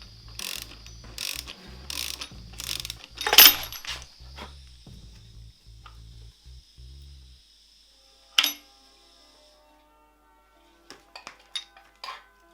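Metal clanks and ratcheting clicks come from work to free a hot cam pulley on a Lotus Europa engine. A dense run of rapid mechanical clatter at first is followed by a sharp clank and a few scattered later knocks in near silence.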